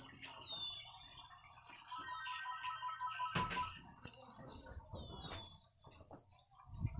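A phone rings with repeated electronic tones through a cluttered room, mixed with chirpy bird-like tones, knocking and rustling as someone searches; faint voices are heard.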